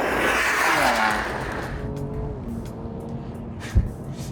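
A BMW M2 with a six-cylinder engine accelerates, a loud rising roar that sweeps upward through the gears, then settles into a steadier drone with a sharp knock near the end.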